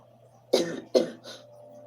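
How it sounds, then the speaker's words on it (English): Two close, sharp coughs in quick succession followed by a softer third, loud against a quiet steady hum. "Your cough."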